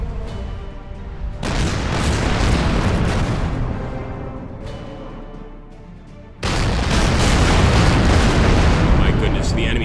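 Heavy battleship gunfire in an Order of Battle naval battle: dense, rumbling booms and blasts roll on continuously, fading slightly before a sudden fresh loud salvo bursts in and sustains to the end.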